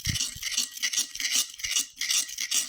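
Peanut butter candy mixture stirred in a bowl for the microwave, with a spoon scraping in steady, repeated strokes, roughly five close, rhythmic rasps in a few seconds and no talking.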